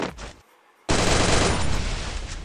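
Bunny MP40 gunfire in Free Fire, a short opening shot, then a pause and a loud, dense automatic burst that continues to the end.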